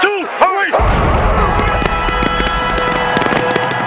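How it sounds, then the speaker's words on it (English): Fireworks burst over Miami before a 1994 NFL game, booming and crackling loudly in rapid succession, with echoing whistles and pops layered into a dense, continuous barrage. "The fireworks that lit up the Miami sky would soon pale before those that exploded on the field."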